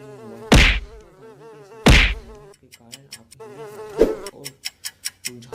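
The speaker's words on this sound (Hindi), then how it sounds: "ये मक्खी कहां से आ गई?" A housefly buzzes in a comic home skit. The insect whine wavers over two sharp thumps, then turns into a run of short, rhythmic buzzing pulses toward the end.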